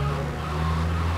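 A car brakes and skids in Grand Theft Auto III, giving a sustained tire squeal over a steady engine hum for a brief, loud moment.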